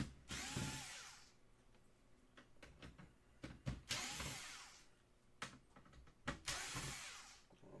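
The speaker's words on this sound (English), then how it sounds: "now we got to take out all the screws here. Again, I'm using the T10." A power driver with a T10 bit whirs in repeated short bursts, backing screws out of an original Xbox during a repair, with faint metallic clicks and handling noises between runs.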